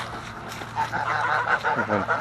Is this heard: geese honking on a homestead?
yes